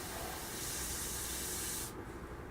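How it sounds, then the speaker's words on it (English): Primer is sprayed onto an F-22 Raptor scale model in a close, steady airbrush hiss that cuts off after about two seconds, leaving faint room noise. "you can just spray the primer back over it and basically delete it all"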